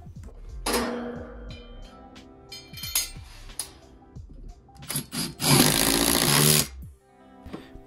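A power tool drives fasteners while mounting brackets for Tesla Powerwall 3 battery units go up during a home solar installation. Short loud whirring bursts come between clinks and knocks of metal hardware, and the longest burst arrives near the end.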